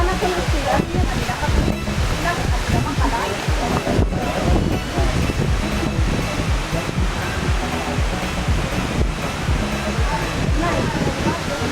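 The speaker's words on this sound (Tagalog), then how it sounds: "Welcome to Bomod O Falls na dito sa Sagada." Bomod-ok Falls in Sagada pours down in a loud, continuous broadband roar that stays even throughout, with faint voices mixed in.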